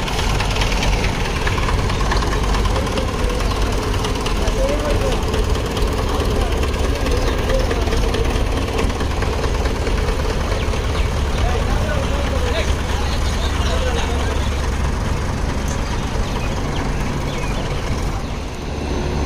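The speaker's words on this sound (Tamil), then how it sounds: "மகேந்திர டிராக்டர்ஸும் இடம் போட்டு உள்ளே வருதுங்க" A heavy Mahindra tractor diesel engine at a sugar mill drones steadily and loudly throughout, a low rumbling chug that neither fades nor builds, as if rolling close by.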